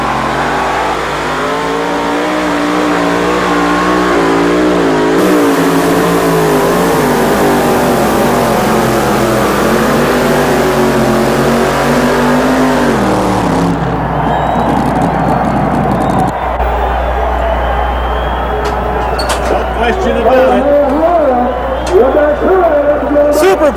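A two-wheel-drive Dodge pulling truck's engine revs hard and steadily at a 1986 truck pull, a loud sustained roar that shifts in pitch partway through, with an announcer talking over it.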